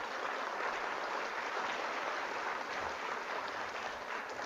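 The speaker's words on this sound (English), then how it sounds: "Please give a round of applause to Emma Carrasco." A crowd applauds in a continuous, even wash of clapping that stays at one level throughout, with no voices.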